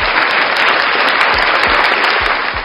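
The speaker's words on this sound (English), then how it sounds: "Let's just get one more applause." Dense burst of applause and cheering at a hip-hop album reaction stream, steady and loud throughout with a few low thumps underneath, no talk.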